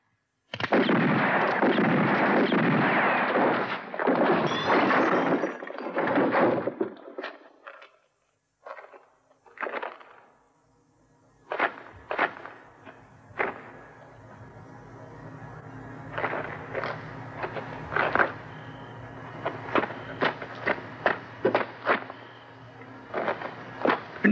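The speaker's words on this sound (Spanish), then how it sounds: "Siguen disparando." Gunshots in a Western film shootout: loud sharp cracks ring out one after another, some in quick pairs, with brief gaps and lingering echoes between volleys.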